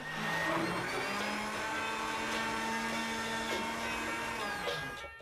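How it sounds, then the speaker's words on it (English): A blender whirs steadily while making Tibetan butter tea, a continuous, fairly loud mechanical hum with a faint pitched whine that holds for about five seconds, with no talk. "a cup of the butter tea made in the blender"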